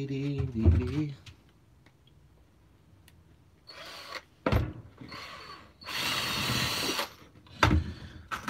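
Rivets going into a cuttlefish trap with a power riveting tool, several separate loud mechanical bursts of whirring and clacking with quiet gaps between them, and a brief voice near the start.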